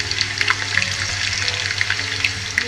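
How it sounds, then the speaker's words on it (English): Small plain unsalted potato pieces frying in oil for Spanish patatas bravas, a dense continuous crackling sizzle with bright popping bursts, close and fairly loud, with no talk. "We're gonna fry them."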